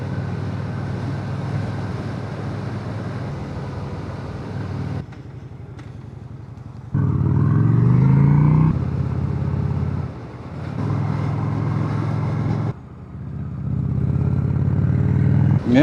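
A 2006 Honda Shadow VT750 motorcycle cruising on a road, its engine note loud and close, dropping and rising with gear changes and throttle, with wind and road rumble between.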